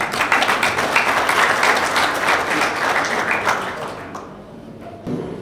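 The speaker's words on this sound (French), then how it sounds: "Sous vos applaudissements." An audience at a maritime forum applauds warmly for a former ship captain, a dense, sustained clapping that tapers off near the end, followed by a brief burst of sound.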